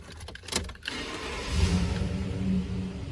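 A 2019 Chevrolet Silverado LT pickup starts up: a few quick clicks and a cranking burst, then the engine catches and settles into a steady low idle hum, fairly close and moderately loud.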